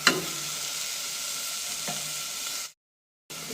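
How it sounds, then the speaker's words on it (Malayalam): Turmeric powder and salt being stirred in a hot pan, with steady sizzling and scraping for a few seconds before a brief silent break, then the sizzle resumes. "ഇതിലേക്ക് മഞ്ഞൾപ്പൊടി, ആവശ്യത്തിന് ഉപ്പ് ഒക്കെ ചേർത്ത് നന്നായി ഇളക്കി യോജിപ്പിക്കാം."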